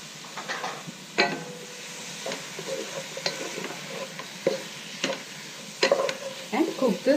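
Chopped mint leaves, coriander leaves and tomato frying in a pan for Dindigul mutton biryani, with a soft steady sizzle under repeated stirring scrapes and light clinks of a spoon against the pot.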